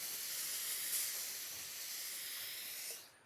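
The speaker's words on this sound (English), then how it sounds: "Look at that steam." A 1.5 kg steam iron with a cork handle releases a long, steady hiss of steam at close range, fading out abruptly near the end.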